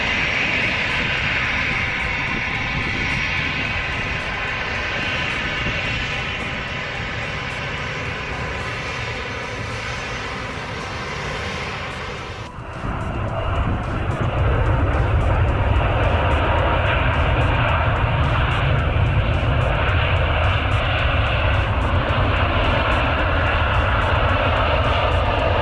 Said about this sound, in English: What a gorgeous aircraft.